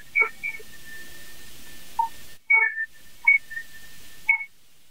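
A human voice produces a thin whistle tone during a singing technique demonstration, sounding in several short, high whistled bursts separated by pauses and breathy attacks.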